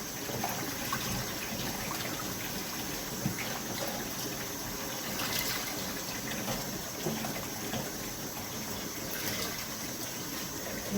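Water runs steadily into a kitchen sink for rinsing fresh collard greens, a continuous close trickling gush with small splashes throughout and no talk.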